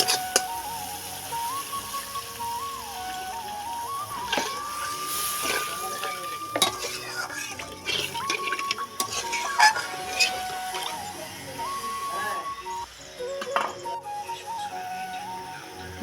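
Spices frying and being stirred in a kadai while cooking a chickpea-lentil and soybean dhoka curry, a steady close sizzle with scraping stir strokes and clinks throughout.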